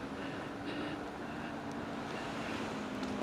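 Gusty wind buffets the microphone on a ride by open water, a loud, continuous roaring rumble that never lets up, with surf-like hiss mixed in.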